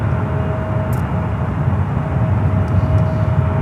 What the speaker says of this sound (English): Good luck with the takeoff, Delta 2078.